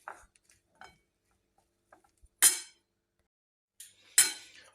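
Spoon stirring bean salad (kuru fasulye piyazı) dressed with lemon juice in a bowl, heard as a few scattered light clinks followed by two louder scraping, clattering bursts, close and without talk.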